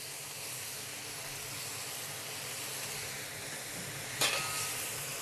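Shanghai bok choy goes into a hot wok on a BlueStar cooktop, a steady broad sizzle and hiss with a brief clatter near the end, with no talking.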